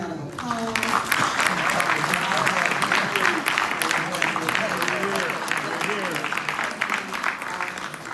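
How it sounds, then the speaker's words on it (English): Rousing audience applause for inductees at the 2025 Tuskegee ROTC Hall of Fame ceremony, a broad sustained wall of clapping with voices and cheers mixed in throughout. "let us give all of our inductees a rousing round of applause"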